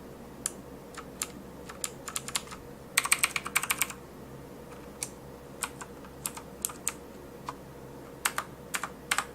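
Keys clatter on a TOMOKO mechanical gaming keyboard with Cherry MX Black clone switches, sharp irregular clicks close by in a quiet room, with a quick flurry of keystrokes partway through.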